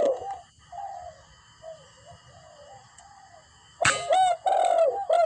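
Spotted dove coos from a tree at an outdoor hunting spot, a few soft rhythmic calls that stay moderately loud and steady before a sharp air-rifle shot, followed by further bird calls.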